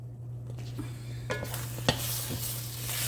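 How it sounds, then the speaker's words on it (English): Scrambled eggs cook on high heat in a pan, a soft continuous sizzle under a steady low hum, with a few sharp scrapes and taps of a utensil stirring them. "We're gonna get these cooking really good, and we're gonna add some cheese."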